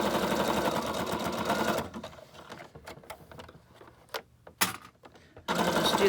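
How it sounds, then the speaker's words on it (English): A sewing machine runs a steady, fast straight stitch around a junk journal made from a pudding box, stopping for a few seconds of quiet clicks and taps before the motor starts up again. "then we'll do a straight stitch all the way around to secure everything in"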